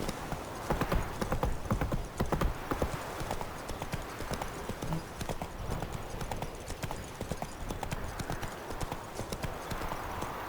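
Roach, a horse in The Witcher III, gallops with a rapid, steady clip-clop of hooves throughout, fairly close and continuous, with faint ambient game sound beneath.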